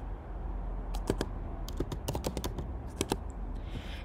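Keys clacking on a computer keyboard while entering text in CapCut, a scattered run of quick taps with short pauses, close and fairly clear over a low steady hum.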